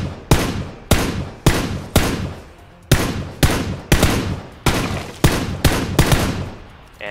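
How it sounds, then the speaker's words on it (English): Rapid gunfire in the battle-royale game PUBG, about a dozen loud sharp shots fired in a steady rhythm, each with a short ringing tail, close and uninterrupted by any voice. "So I'm just able to throw out as many shots as I want at this point."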